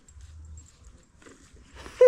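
A dog lets out a single sharp, high whimper right at the end, loud and close, after a quiet stretch of low rumbling and faint shuffling at home.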